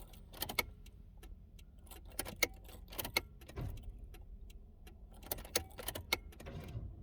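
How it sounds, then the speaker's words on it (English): The fuel pump of a car that has run out of gas is primed, giving a run of sharp mechanical clicks and ticks in uneven bursts, close by with a low rumble underneath. "So I'm gonna prime the fuel pump."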